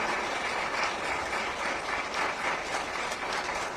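Audience applause at a Tamil pattimandram debate speech, dense continuous clapping from a crowd, steady and fairly loud throughout with no talk over it.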